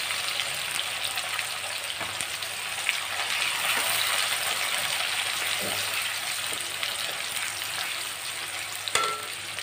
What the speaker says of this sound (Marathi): आता कढीपत्त्याची पानं आणि आपल्याला कांदा चांगला लालसर होईपर्यंत, गुलाबी कलर येईपर्यंत आपल्याला त्याला परतून घ्यायचं आहे